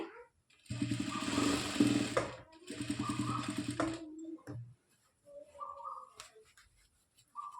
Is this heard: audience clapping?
no